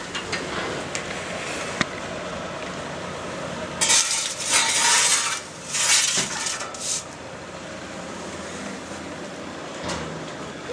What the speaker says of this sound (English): let's take our focaccia out